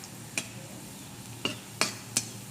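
Garlic frying in oil until golden, a faint steady sizzle under four sharp metallic taps of a spatula against the pan, spaced irregularly and close.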